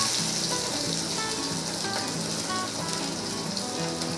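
Eggplant and potatoes frying in oil with five-spice and dried chili give off a steady, dense sizzle close by, with faint clinks of stirring and no talk.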